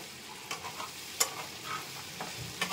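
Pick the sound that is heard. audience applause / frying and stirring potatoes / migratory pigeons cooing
frying and stirring potatoes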